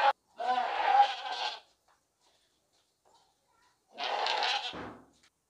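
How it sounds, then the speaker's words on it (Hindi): Plump, healthy sacrificial goat for Qurbani bleating twice at a livestock market, two loud, drawn-out calls separated by a short silence, close to the listener with no talk over them. "गोश्त वाला मोटा ताज़ा खूबसूरत बकरा है, साफ सुथरा कुर्बानी वाला सेहतमंद बकरा है।"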